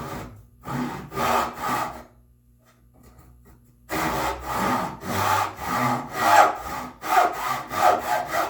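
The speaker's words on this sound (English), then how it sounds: "cut down to the mortise line." A hand saw cuts walnut down to a mortise line on a bookcase side, rhythmic close back-and-forth rasping strokes in two bursts separated by a short pause.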